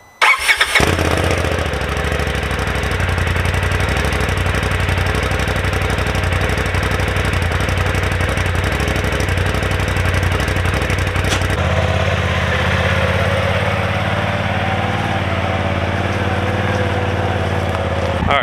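A 2022 Polaris RZR Pro XP Sport cold-starts in chilly weather: a quick crank catches into a loud, steady idle that runs on, then the engine note drops to a lower, smoother idle, close to the microphone.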